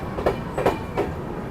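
The CR Rajdhani Express rolls along the rails with a steady rumble and a clickety-clack of wheels over rail joints, three evenly spaced clacks heard close from inside the train.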